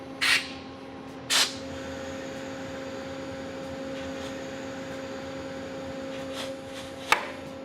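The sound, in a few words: compressed air actuating clutch slave cylinder and release bearing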